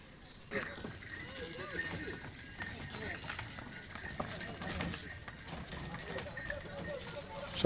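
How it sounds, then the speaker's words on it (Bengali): Hooves of a horse-drawn carriage clip-clop at a steady walking rhythm on an outing at Swapnapuri, fairly faint, with a murmur of voices and outdoor noise around them. "ঘোড়ার গাড়িতে আমরা ওঠার চেষ্টা করব এবং দেখানোর চেষ্টা করব"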